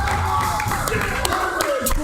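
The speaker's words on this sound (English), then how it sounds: "The crowd exploding from that." A video game wrestling arena crowd in Wrestling Wars 4 roars and cheers loudly and continuously, with the noise sustained throughout and scattered sharp bursts.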